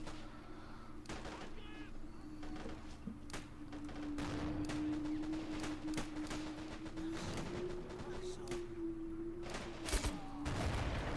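Dense battlefield gunfire from MG42 machine guns and sniper rifles in a World War II strategy game, a steady stream of overlapping shots and bursts under a droning tone, with a louder crack near the end.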